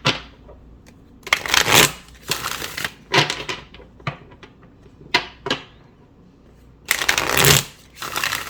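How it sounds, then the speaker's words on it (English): Tarot deck being shuffled by hand: repeated bursts of riffling and card slaps in uneven clusters, close and crisp, with short quiet gaps between shuffles. "I'll give it a good shuffle, and then we can lay them out so you can see how they look."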